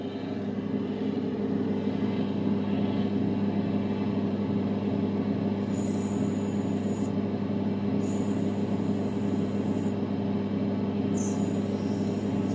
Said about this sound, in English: Let's jump on the wheels and get a grinding.